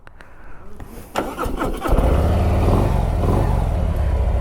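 A new 2023 Harley-Davidson Street Glide ST motorcycle engine cranks with a few clicks and coughs, then catches and settles into a loud, deep, steady idle close by.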